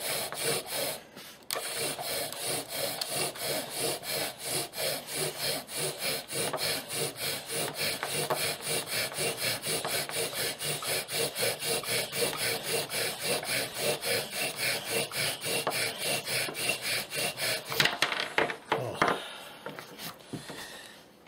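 A wooden spindle in a friction fire drill is worked back and forth in a fast, steady rhythm of rasping strokes for about twenty seconds, with a brief pause near the start and a looser flurry at the end.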